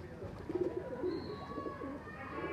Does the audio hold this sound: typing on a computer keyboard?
no